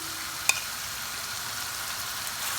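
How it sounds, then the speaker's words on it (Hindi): Spices sizzling in hot oil in a pan for a baingan (aubergine) dish, a steady soft hiss throughout with one brief clink near the start. "अच्छी तरह अब हमने मसालों को भून लेना है।"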